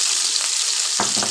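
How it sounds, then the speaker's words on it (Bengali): Onions poured into hot oil left from frying fish hiss in a steady, loud sizzle, with a sharper burst of crackling as more hits the pan near the end. "মাছ ভাজা তেলের মধ্যেই পেঁয়াজ ঢেলে দিব"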